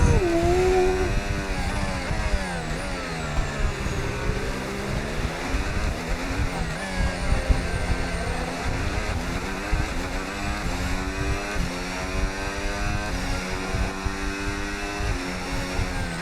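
F1 race cars screaming around the Monaco street circuit in the F1 video game, several high-revving engines close together with pitch rising and falling through gear changes, loud and continuous as cars battle for position.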